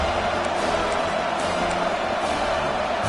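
A dense, steady roar of a large college football stadium crowd at LSU versus Georgia, loud and unbroken throughout, with faint whistles or shouts rising within it.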